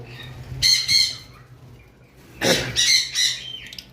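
Pet birds at a seller's stall, including green fischer's lovebirds, give two bursts of loud, harsh squawking and chirping, the second longer, over a low background hum.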